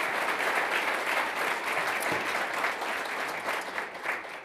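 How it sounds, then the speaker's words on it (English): A seminar audience claps steadily after a panel talk on pre-purchase surveys, a dense wash of many hands holding at an even, loud level throughout with no voices on top. "Let's give them a round of applause."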